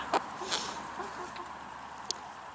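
Rhode Island Red chickens cluck faintly on a homestead, a few short scattered calls over soft background noise.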